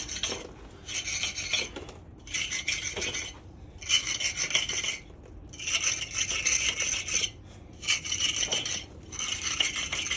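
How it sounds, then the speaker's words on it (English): A steel pointing iron scraping mortar into brick joints, a rhythmic gritty rasp in repeated strokes of about a second each with short pauses between, close and fairly loud, no talk. "get your pointing iron and rub it all in"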